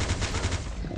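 Rapid automatic gunfire from a weapon in the mobile survival game Last Day On Earth, a dense, steady burst of loud repeated shots filling the whole moment.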